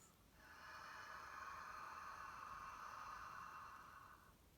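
A person demonstrates an open-mouthed gasping in-breath during a yin yoga breathing lesson, one long airy inhalation with a hoarse rasp, close and fairly loud, swelling then fading out.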